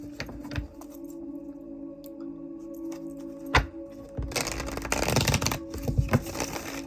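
Tarot cards shuffled by hand in a quick riffling burst lasting about two seconds, close and crisp over a steady low hum, after scattered light taps and clicks.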